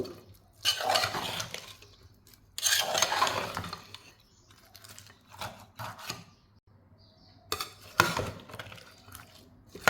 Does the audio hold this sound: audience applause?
no